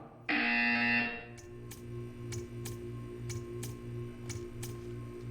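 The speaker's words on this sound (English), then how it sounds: "You will hear a buzzer." A loud electronic buzzer from the game Portal 2 blares for about a second, then gives way to a steady ticking beat over a low humming tone.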